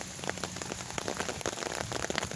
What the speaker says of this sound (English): It's just been raining every single day